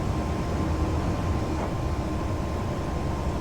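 A Class 370 APT tilting high-speed train running in Train Sim 2021, a steady loud rumble of motors and wheels on track with a faint whine, unbroken throughout.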